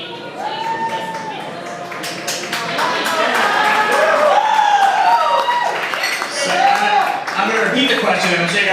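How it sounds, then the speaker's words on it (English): Audience applause and cheering at a Q&A session in a New York City cantina rise and swell for several seconds, with voices overlapping the clapping. "I'm sure you guys are applauding again."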